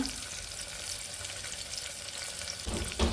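Bay leaf, cinnamon sticks and cloves fry in hot oil in a pan for an egg biryani, giving a steady close sizzle with a louder crackling burst near the end.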